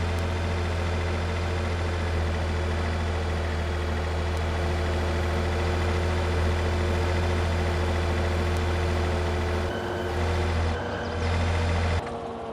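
Little Argon 375 tractor from Farming Simulator 22 idling with a steady, loud low engine drone and faint rattle throughout, briefly dipping and changing near the end.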